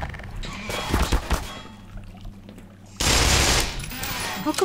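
Rapid bursts of gunfire are aimed at the player in the video game Black Mesa, with a scattered volley early on, a lull, then a dense, loud stretch of automatic fire to the end.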